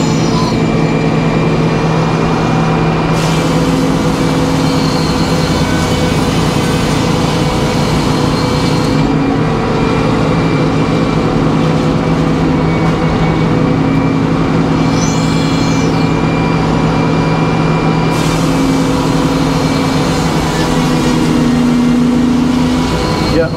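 Sawmill engine laboring with a clogged fuel filter while sawing oak 4x4s, a loud continuous rumble with the blade's whine rising and falling as cuts begin and end.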